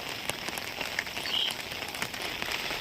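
Heavy monsoon rain falls near a water-filled well, a dense, steady hiss of drops hitting surfaces, with sharper individual splats scattered throughout.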